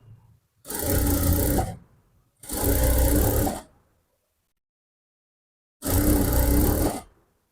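A sewing machine stitches palazzo pants with a one-inch seam margin, running in three separate bursts of about a second each, with quiet gaps between them.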